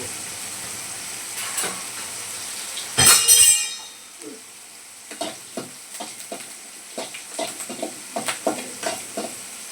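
Green chillies fry in hot oil for coconut chutney, a steady soft sizzle with a loud burst of spitting as they hit the pan, then stirring scrapes and light clinks of a spatula against the pan.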